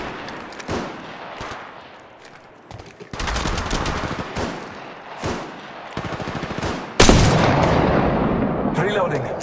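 Gunfire in the mobile battle royale Apex Legends Mobile, rapid shots in bursts that grow louder and denser toward the end, with in-game voice lines over the combat.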